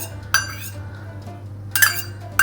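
A saffron mixture being added to a butter mixture in a bowl for whole wheat saffron almond cookies; two sharp clinks of a utensil against the bowl, separated by quiet, close and clear.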